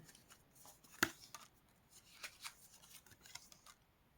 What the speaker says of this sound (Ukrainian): давайте я ще докладу карти